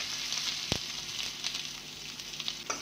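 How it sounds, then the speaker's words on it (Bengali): Chopped onion and green chili sizzle steadily in hot oil in a wok, a dense continuous frying hiss with a sharp clink of a utensil near the start and another toward the end, no talking. "তারপর এখানে কড়াইয়ে তেল গরম চাপিয়ে হালকা গরম হয়ে এলে এখানে দিয়ে দিল কেটে রাখা পেঁয়াজ আর কাঁচা লঙ্কা।"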